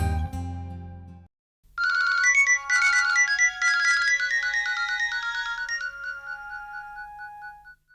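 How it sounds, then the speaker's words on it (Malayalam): A phone ringtone sounds in a staged drama scene, a bright electronic melody that starts after a short low sound and a brief pause, then repeats clearly and steadily to the end. "ഫോൺ എടുക്കണ്ട"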